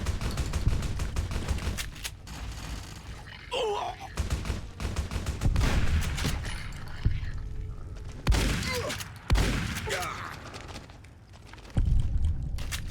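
12-gauge shotgun blasts in Fallout New Vegas, several loud booming shots spaced irregularly among thuds and game noise, with a voice talking in between.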